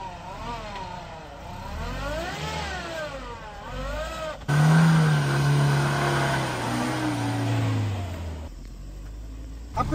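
A Suzuki Jimny's engine drones while the vehicle reverses off-road. The pitch rises and falls with throttle, then jumps to a louder, steadier rev with a whining note before dropping back, recorded nearby.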